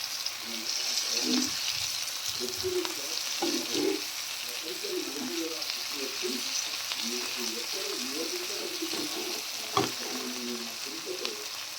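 Coriander being stirred into a simmering dish on the stove, a low steady sizzle with repeated soft scraping and stirring strokes throughout, plus a single sharp clink near the end.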